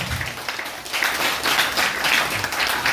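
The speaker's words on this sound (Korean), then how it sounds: "우리 사모님을 위해서 한번 박수 한 번 해주세요" Church congregation at a Korean worship service clapping for the pastor's wife, a steady dense wash of applause held for about three seconds, fairly close and even, with no clear talk.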